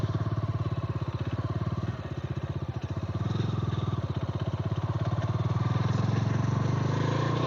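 A motorcycle rides uphill on a road toward the Narasimukku viewpoint in Attappadi, its engine putting out a steady, close, loud chugging throb that swells slightly as it climbs.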